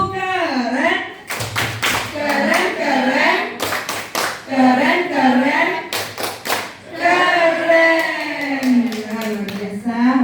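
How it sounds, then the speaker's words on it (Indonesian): A classroom group performs the "tepuk keren" clapping routine in a teacher training session: sharp bursts of unison claps alternate with loud chanted voices in a repeating rhythmic pattern. "Nah sekarang tepuk keren"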